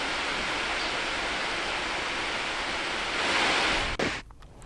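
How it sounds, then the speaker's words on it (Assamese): Heavy rain pouring down in Agartala, Tripura, during a cyclone, a dense continuous roar of rainfall that swells slightly before cutting off abruptly near the end. "ত্ৰিপুৰাৰ ৰাজধানী আগৰতলাত এতিয়া এনেদৰে প্ৰচণ্ড বৰষুণ"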